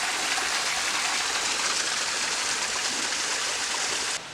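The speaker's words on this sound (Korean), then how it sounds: "여기 조그마한 폭포도 있고" A small waterfall beside a rocky mountain trail on Baegunbong in Yangpyeong gives a loud, constant rushing hiss that fills the whole stretch without a break, heard close up.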